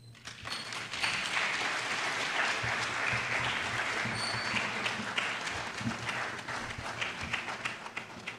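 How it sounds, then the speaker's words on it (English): A lecture hall audience at a memorial lecture during an anniversary week celebration breaks into steady, dense applause lasting several seconds, with only a little background voice. "Please let's give him another round of applause."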